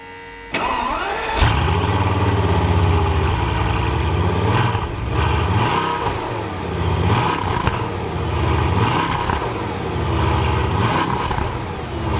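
A Bugatti Veyron's engine cranks and fires up loudly after a brief quiet start, then settles into a deep close idle punctuated by several rhythmic revs and dips.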